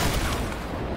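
Rocket launcher blasts in Fortnite rumble in a loud, dense burst of booming explosions that fills the whole moment, close and heavy.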